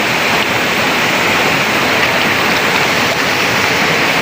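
Pupot mini waterfall rushing in a steady, dense, unbroken wash of falling water, loud and close with no pauses.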